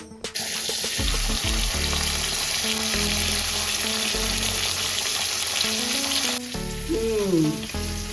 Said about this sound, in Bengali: প্রথমে একটা পাত্রে সর্ষের তেল দিয়ে মাছের মুড়োগুলোকে ভালো করে ভেজে নিলাম